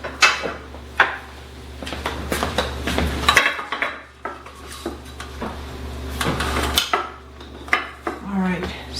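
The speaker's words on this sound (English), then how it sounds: "Now I'm going to get my muffin pan and a scooper." Metal muffin pan and scooper being handled in a home kitchen, with a series of close clanks, rattles and knocks of metal against countertop spaced irregularly, heard alone without talk.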